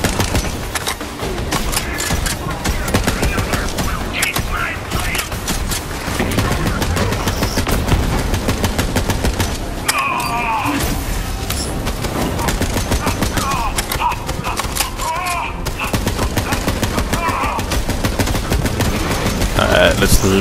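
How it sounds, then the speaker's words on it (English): Sustained rapid gunfire fills the whole stretch in Borderlands 3, dense machine-gun bursts and repeated shots in a loud, continuous fusillade, with talk heard at times under the shooting. "Layer him with bullets quick."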